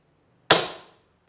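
A single sharp crack from a PCP air rifle test shot, a sudden close report that fades out within half a second, with silence before it.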